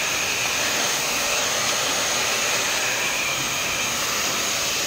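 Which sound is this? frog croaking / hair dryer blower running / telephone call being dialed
hair dryer blower running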